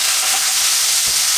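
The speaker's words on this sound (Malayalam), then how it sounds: "ഇനി ഈ ചെറിയുള്ളി ഒന്ന് മൂത്ത് വരണം." Shallots sizzle and fry in hot oil with dried chillies and curry leaves, a steady, close hiss with a faint stir around the one-second mark, no voices present.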